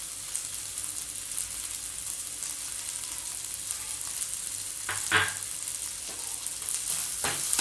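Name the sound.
sautéing green chillies with grated coconut in a pan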